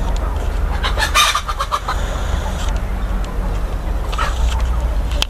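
Curly-feathered chickens cluck and squawk loudly nearby, with a crowing call mixed in over steady outdoor background noise.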